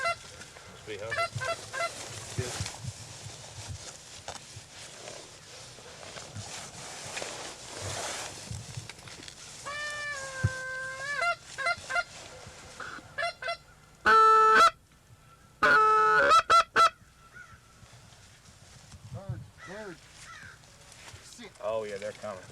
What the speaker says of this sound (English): Geese are early today.